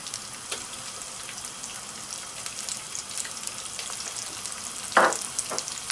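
Onions frying in a pan as tomato puree is poured in for spinach and chickpea curry, a steady crackling sizzle with a sudden wet splash and spatter near the end, close with no talk.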